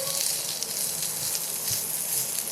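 Onions sautéing in oil in a pan for a Tamil-style prawn fry give a steady, close hiss of sizzling that runs unbroken without speech.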